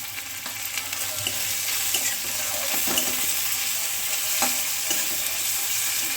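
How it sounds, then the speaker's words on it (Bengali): Onion and tomato with a pinch of salt sizzle in a pan of oil while a spoon stirs them slowly, scraping and clinking now and then over a steady, close frying hiss, with no voices. "এবার আমাকে হালকা করে এটাকে আস্তে আস্তে করে নাড়তে হবে যতক্ষণ না পেঁয়াজটা ভাজা হচ্ছে"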